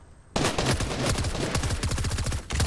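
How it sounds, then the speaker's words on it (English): Fortnite golden gun on rapid fire unleashes a dense, continuous rattle of close, loud shots, nearly unbroken for over two seconds after a brief quiet start. "I'm gonna use my golden gun on you."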